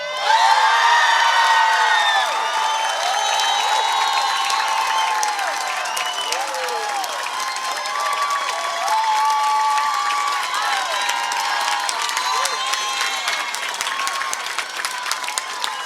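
A large crowd cheers and applauds continuously for a candidate at a Democratic primary victory speech, with loud clapping, whoops and shouts sustained throughout.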